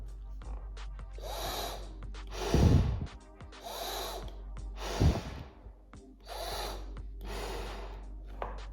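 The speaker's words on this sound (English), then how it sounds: "when I breathe in, the top valve opens, and when I breathe out, the bottom valve opens" A person breathes slowly in and out through a standard face mask with silicone breather valves, and each breath makes a soft, hissing rush. The deeper exhales carry puffy thumps against the valve. The breaths run in a steady, close rhythm.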